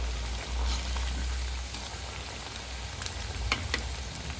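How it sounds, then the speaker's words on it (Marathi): Cabbage fritters (kobichya vadya) deep-frying in oil over a low flame, giving a steady close crackling sizzle throughout with a few sharper pops near the end. "छान अशा क्रिस्पी अशा आपण तळून घेणार आहोत."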